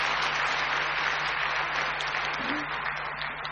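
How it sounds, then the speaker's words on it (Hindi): Audience clapping at a welcome session, a dense sustained round of applause from a crowd filling the whole stretch at steady strength. "ताली बजाओ खुद के भाग्य के लिए"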